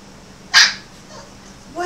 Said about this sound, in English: somebody had to bark at something